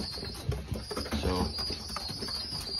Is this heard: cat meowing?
no